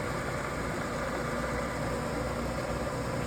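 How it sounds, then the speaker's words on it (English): The spindle of a 1999 SWI Trak DPM 3-axis CNC mill running, a steady even hum with faint high whine, continuous and fairly quiet, no speech. "Spindle's running."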